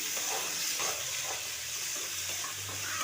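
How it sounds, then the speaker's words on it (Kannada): Onion and garlic paste sizzles steadily in hot oil in a pan, a continuous close hissing fry with occasional stirring scrapes and no talking. "ಈಗ ಉಳ್ಳಾಗಡ್ಡಿ ಮತ್ತು ಅಲ್ಲ ಬೆಳ್ಳುಳ್ಳಿ ಪೇಸ್ಟ್ ಎರಡೂ ಹಸಿ ವಾಸನೆ ಹೋಗಿ ಚೆಂದಾಗಿ ಗೋಲ್ಡನ್ ಬ್ರೌನ್ ಕಲರ್ ಬರುವಂಗೆ ಹುರ್ಕೋಬೇಕ್ರಿ"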